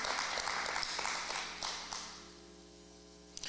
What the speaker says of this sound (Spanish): Dale fuerte el aplauso al Señor en alabanza y adoración.